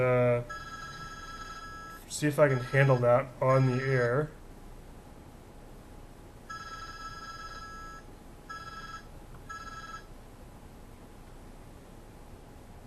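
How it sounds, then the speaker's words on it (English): A telephone rings in repeated electronic bursts, a voice talking over the first rings, then several more rings sounding alone. "my phone is ringing"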